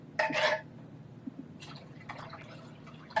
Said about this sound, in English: And then we'll also need to put in some water as well.